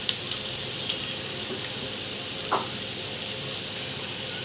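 Vegetables and onions sizzle steadily in a frying pan while salt is sprinkled on, a close, even frying hiss with a faint clink or scrape midway.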